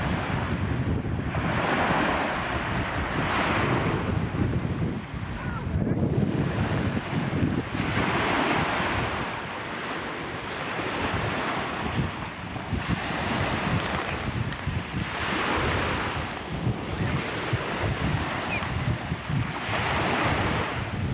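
Gulf of Mexico surf at a beach in Venice, with waves rolling and breaking in steady repeated surges, loud and close, under constant wind buffeting the microphone.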